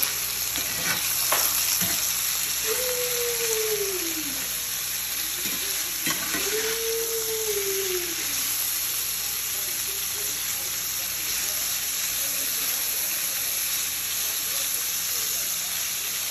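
Food frying and being stirred in a home kitchen pan: a steady, close sizzle runs throughout with scraping stir strokes early on, while two rising-falling whistle-like tones drift over it.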